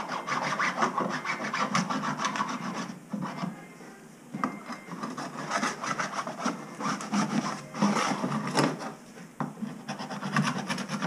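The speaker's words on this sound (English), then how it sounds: "an ace with a grinder cutting off TJ fenders" An angle grinder cuts through the stock steel fenders of a Jeep TJ in a home garage, a continuous harsh, gritty abrasive whine that rises and dips in rough pulses as the cut progresses, close and loud throughout.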